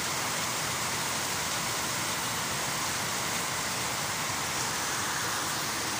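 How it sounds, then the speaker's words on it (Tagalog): Heavy rain falls in a steady, unbroken wash of hiss near Central Mall, with no voices over it. "Grabe lakas ng ulan talaga."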